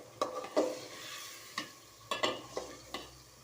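Rohu fish heads, two large pieces, being sautéed and stirred in a pan, with a series of sharp scraping stir strokes over a faint sizzle, close and fairly quiet, with no talking.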